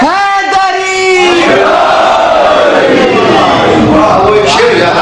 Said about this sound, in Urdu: اور اس فخر کے ساتھ نعرہ بلند کیجیے یا علی کہیے